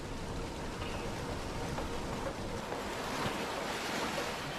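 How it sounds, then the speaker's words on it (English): Surging spring floodwaters from heavy mountain snowmelt rush toward a dam, a steady, broad roar of churning water with wind-like hiss, continuous and loud throughout with no voices. "the heavy spring runoff creates surging floodwaters"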